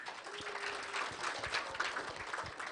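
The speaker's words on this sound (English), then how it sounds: "Please give them a round of applause" An audience at a national summit on ending gender-based violence applauds the panelists with a dense, steady roar of many hands, heard from some distance in a large room without letting up.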